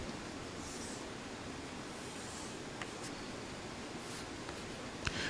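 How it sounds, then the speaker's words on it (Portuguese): Chalk or marker strokes on a classroom board while a graph of a function is drawn during a triple integrals lecture, a soft continuous scratching with a few faint taps, quiet against steady room noise and no talk. "vou desenhar o gráfico desta função"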